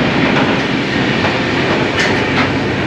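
Train running on rails with a steady, loud rumble and rhythmic clatter of wheels over track joints, continuous throughout with faint higher squeaks near the end.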